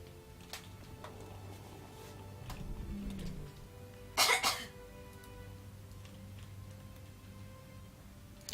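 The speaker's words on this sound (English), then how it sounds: "you're coughing way too much" A person coughs once in a short, sharp double burst against a quiet background hum, with no talking around it.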